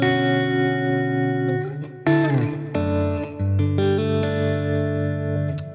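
Electric guitar played through an MXR reverb pedal on its plate setting, a run of strummed chords and picked notes with lush sustained wash trailing each attack, loud and close with no talking.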